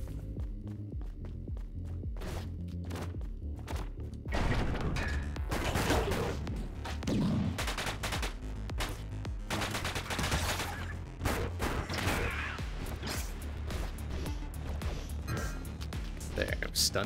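Rapid SMG fire in the video game Orbital Bullet rattles in dense bursts over a droning game soundtrack, with someone talking over much of it.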